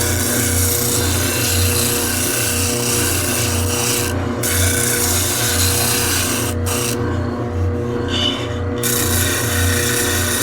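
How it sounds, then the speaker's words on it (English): A drum sander works wood with a steady, loud, continuous rasping hum and a low motor drone underneath, with a couple of brief dips in the grinding. "So here's my sander"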